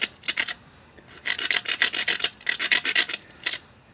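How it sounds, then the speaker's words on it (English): A hammerstone rubs against the platform edge of a flint core during flintknapping, making repeated rasping strokes in quick rhythmic bursts, close and clear with no talking. "Now stone grind it, make it strong."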